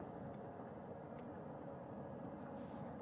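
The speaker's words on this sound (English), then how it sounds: "That second helicopter now making its way back over to the front porch." A helicopter flies back toward a recovery ship at sea after astronauts are lifted from a space capsule, heard as a faint, distant, steady rumble with no voices.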